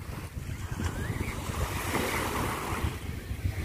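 Waves breaking on the beach at Gold Coast, Tuen Mun, heard as a steady, continuous wash of surf with gusty wind buffeting the microphone throughout.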